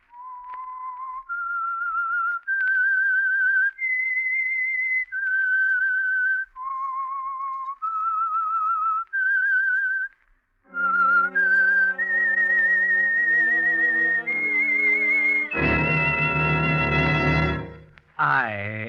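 A clear, lone whistled melody in sustained notes, the opening theme of the 1947 radio drama The Whistler, followed by a fuller orchestral echo of the same tune ending in a swelling chord.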